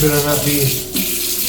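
Water runs steadily from a kitchen tap while candied yams are being prepared, a continuous hiss that carries on beneath a man's nearby speech.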